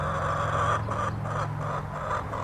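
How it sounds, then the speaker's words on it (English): Chickens cluck and murmur in a continuous, slightly rhythmic chorus close by, over a low steady hum. "I think the chickens are mad at me."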